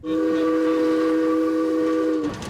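Virginia and Truckee Railroad train in Virginia City, Nevada, sounding a loud, sustained whistle blast with steady tones that cut off sharply near the end, leaving rumbling train noise behind.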